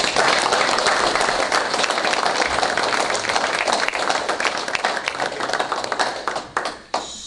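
A dinner crowd claps for the spouses of law enforcement members, a dense round of applause that thins into a few scattered, closer claps at the end.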